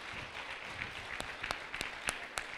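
Audience at a book launch for a book on Sita clapping in a steady, moderately loud wash of applause, with a few sharper claps standing out near the end.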